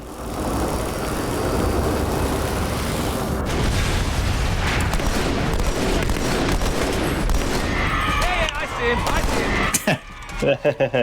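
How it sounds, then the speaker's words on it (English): A battle rifle in Halo 2 fires three-round bursts over and over, loud and dense, amid constant battle noise, with bursts spacing out near the end. "This is the battle rifle."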